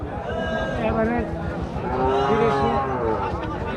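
Several cattle moo loudly and overlap in long drawn-out calls at a cattle market in Rajshahi, Bangladesh, with a busy crowd murmuring throughout.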